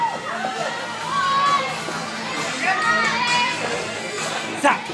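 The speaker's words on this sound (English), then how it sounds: "Cheer for Ho Chi Minh!" A lively crowd of children shouting and cheering for Ho Chi Minh at an in-house fight, voices overlapping close by with rising excited calls.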